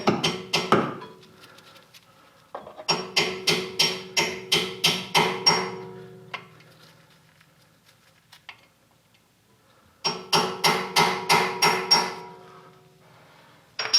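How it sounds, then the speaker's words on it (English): Close, sharp hammer taps on a brake caliper piston of a 9th generation Honda Accord come in quick, even runs of several strikes, with pauses between the bursts. "Use the hammer, push it in a little bit, then use the punch to go the rest of the way."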